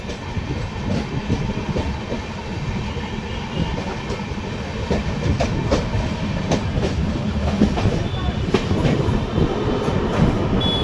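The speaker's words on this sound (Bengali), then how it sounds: "7:28 এখন ঘড়িতে সময় ট্রেন ছাড়লো দক্ষিণেশ্বর।" Low, steady rumble of an LHB passenger train rolling along the tracks out of Dakshineswar station, with rhythmic clacking of wheels over rail joints from inside the carriage.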